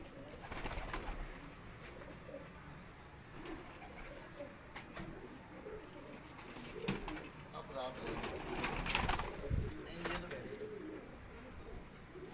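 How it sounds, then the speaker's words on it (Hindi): A breeder pigeon and others coo softly at a distance on a Karachi rooftop amid a busy, noisy background with scattered rustles and faint voices. "माशाल्लाह बहुत लाजवाब ब्रीडर कबूतरी है तनवीर भाई की।"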